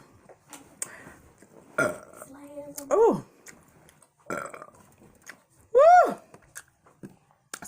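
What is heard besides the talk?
burping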